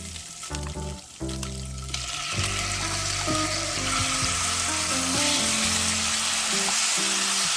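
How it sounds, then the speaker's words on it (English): Ham and kimchi hit a hot pan over medium-high heat, a loud steady sizzle building after a few brief clatters and then frying continuously up close with no talking. "place the pan over medium-high heat and add ham and kimchi."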